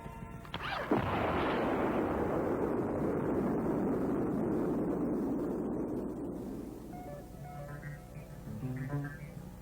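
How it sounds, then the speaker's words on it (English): A controlled detonation of unexploded ordnance with a 40-pound charge on a military EOD training range: a sudden heavy blast followed by a long, loud rolling rumble that slowly fades over several seconds. "Roger, clear to shoot unexploded ordnance. Fire in the hole!"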